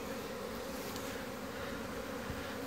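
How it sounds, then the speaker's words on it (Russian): Honeybees buzzing at a hive landing board outdoors, a dense, steady hum of many insects at close range, continuous and fairly loud with no voices. "Пчела идет тяжелая и падает в траву."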